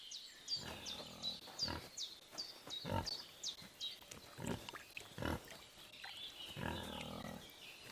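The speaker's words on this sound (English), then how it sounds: "That's a hog." A hog in the medieval role-playing game Kingdom Come Deliverance 2 grunts and snorts repeatedly in short rough bursts, close and fairly loud, with squealy high overtones mixed with outdoor game ambience.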